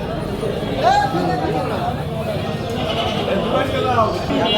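Goats bleat at a rural livestock market in Barobazar, Bangladesh. Several short, wavering cries rise above a steady murmur of crowd chatter and nearby talking.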